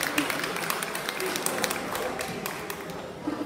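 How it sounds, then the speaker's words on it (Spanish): Applause from an audience at an award ceremony honouring artisans at a town hall, a steady wash of many hands clapping at moderate distance, continuous for several seconds with scattered louder claps. "¡Fuertes esos aplausos!"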